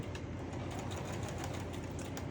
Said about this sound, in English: My sewing machine is off camera